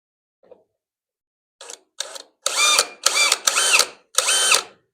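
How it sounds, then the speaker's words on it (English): A drill bit boring a small pilot hole into a spot weld on the rocker panel of a 1963 Chevrolet C10 pickup, heard as a faint click followed by six short bursts of drilling, the last four longer and louder. "So the first thing I'm going to do is take a drill bit,"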